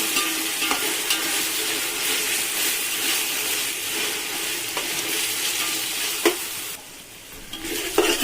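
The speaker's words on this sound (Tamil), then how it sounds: "இந்த இஞ்சி பூண்டு பேஸ்ட்டு இதை ஒரு 2 நிமிஷம் வதக்கிட்டு அதுக்கப்புறம் தக்காளி சேர்த்துக்கலாம்." Ginger garlic paste sautés in oil for home-style mutton biryani, a dense, even frying hiss with occasional stirring knocks, briefly quieter near the end, and no speech.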